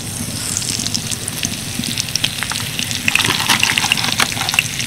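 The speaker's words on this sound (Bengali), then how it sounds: "কড়াইতে দিয়ে দিচ্ছি সাদা তেল, তেলের মধ্যে দিয়ে দিচ্ছি শুকনো লঙ্কা, হাফ চামচ মতো সাদা জিরে, অল্প একটু হিং, কয়েকটা কারি পাতা" Dried red chillies, white cumin, a pinch of asafoetida and curry leaves sizzle and crackle in hot white oil in a kadai, a steady close frying hiss with bright spitting pops that grow busier toward the end.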